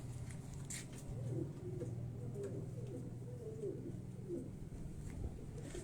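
Pigeons on a rooftop loft in Karachi, kept for high flying, coo steadily in low repeated phrases, close and moderately loud against a constant background hum, with no talking.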